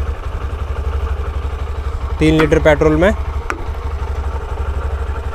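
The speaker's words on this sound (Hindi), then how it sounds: "बाइक स्टार्ट कर दी है मैंने" A Honda Shine 125 motorcycle idles after starting, its engine a steady low, even thrum that runs throughout while someone talks briefly over it.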